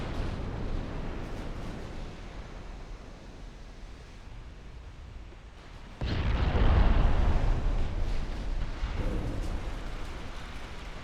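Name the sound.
battlecruiser magazine flash-fire explosion in naval video game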